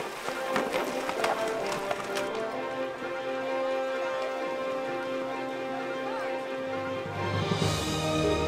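Steady clip-clopping of several horses walking on a guest ranch trail ride, hooves tapping in an uneven rhythm at moderate distance, with a faint rustle and hiss in the background.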